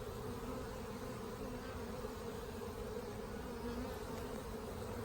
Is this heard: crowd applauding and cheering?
no